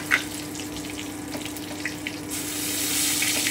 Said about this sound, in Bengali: আমি তেজপাতা, শুকনো লঙ্কা আর জিরেটা দিয়ে দিলাম।